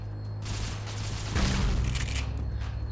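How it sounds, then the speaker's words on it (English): Grenade blasts in the Fallout video game, a dense rumbling barrage of booms with a heavier burst partway through, continuous and loud with no talk. "Grenades. Come on, fire in the hole."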